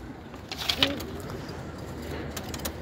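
Pigeons in a loft give a few brief, soft coos near the start, then a quiet rustling background carries on to the end.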